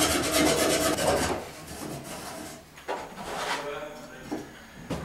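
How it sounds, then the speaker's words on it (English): Rasping, scraping strokes as the end of a plastic drain pipe is beveled for a washer pan drain, close and steady with a few brief pauses. "You want to bevel this pipe just so the drain will slide on easier."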